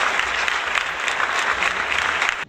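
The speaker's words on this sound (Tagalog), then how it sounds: "bigyan nga ng 3 palakpak ang inyong mga sarili" Students in a classroom clap for themselves in a short burst of group applause, a busy, fairly loud rattle of hands with slight rhythmic surges that stops abruptly at the end.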